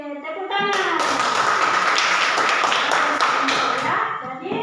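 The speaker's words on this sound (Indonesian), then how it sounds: "Oke, tepuk tangan." A classroom of students claps together in a loud, dense burst of rapid handclaps lasting several seconds, preceded and followed by a voice speaking.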